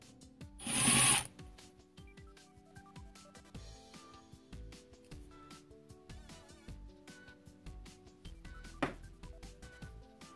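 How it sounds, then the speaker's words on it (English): An impact gun spins a reverse-thread pulley bolt off a 2004 Kia Sedona in one short, loud burst, followed by quiet tool clinks and handling noises. "This is the part where having an impact gun really comes in hand, because this bolt is actually really difficult to get off."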